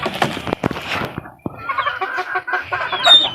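A rooster clucks and squawks in a rapid run of sharp calls, close and loud, with faint background noise.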